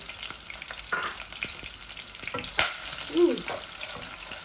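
Cumin and a whole garlic bulb frying in hot oil for a tomato sour dish, giving a continuous crackling sizzle with scattered pops and a few stirring scrapes.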